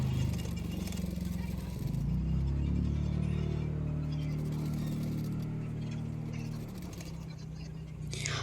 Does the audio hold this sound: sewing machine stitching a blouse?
yes